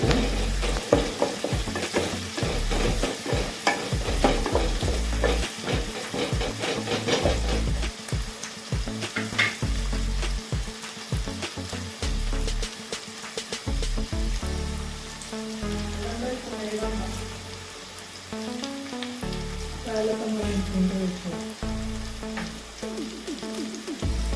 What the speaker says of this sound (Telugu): ఆనియన్స్ మాడిపోకుండా కలుపుకుంటే మాడిపోవు.